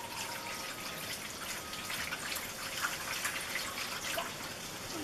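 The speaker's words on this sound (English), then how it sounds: "I'm going to dump a bunch of water here just to kind of get things started." Water dumped out onto a muffler sculpture, a steady splashing, trickling wash that runs continuously for a few seconds, close and moderately loud with no talking.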